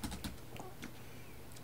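Keys tapped on a computer keyboard during a serial-monitor lesson, a few quick clicks at the start and a couple more scattered later, faint and close over a quiet room hum.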